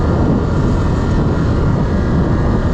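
A 2025 Can-Am Outlander XMR 1000 ATV engine running under throttle on a dusty road, a loud steady broadband roar that holds constant throughout with no breaks or talking.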